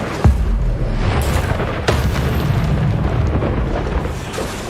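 The Incendio fire spell is cast in the video game Hogwarts Legacy, a dense roaring blast with booming hits, loud and continuous across a few seconds with a sharp impact near the start and another midway.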